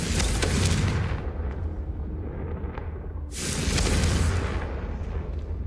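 Fiery Confringo spell blasts in Hogwarts Legacy erupt as two loud, roaring booms, the first at the start and the second about three seconds later, each with a rumbling tail.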